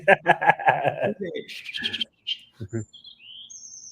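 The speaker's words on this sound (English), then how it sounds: "Oh, you hear the bird? He agreed with me." Bird chirps ring out with high, thin calls after someone speaks, the short tweets appearing in the pauses and fading near the end, fairly close and clear against little background.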